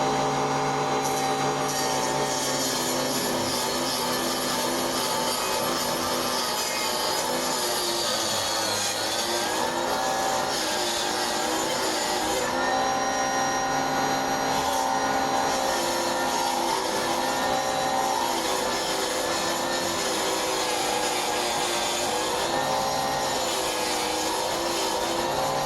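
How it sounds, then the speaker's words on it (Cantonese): A mini table saw cuts through a thick wooden board 34 cm wide, giving a loud, steady, droning whine that holds unbroken throughout. "拎開個夾可以開始鋸啦"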